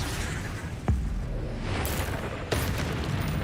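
A Confringo blasting spell in a video game, sharp booming bursts with a whooshing edge, two or three hits over a rumbling, noisy background.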